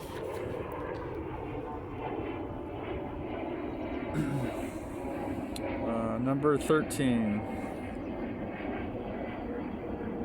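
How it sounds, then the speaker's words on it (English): A jet aircraft flies overhead, its steady, broad roar filling the whole stretch and swelling slightly toward the middle, while someone briefly speaks over it. "I'm gonna wait for the jet."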